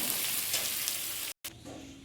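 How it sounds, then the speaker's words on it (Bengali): Boiled leafy greens fry in a pan with a steady, close sizzle that drops out for a split second, then carries on a little softer. "ভালো করে ভেজে নামিয়ে নেব, তাহলে হয়ে যাবে শাক ভাজা কমপ্লিট"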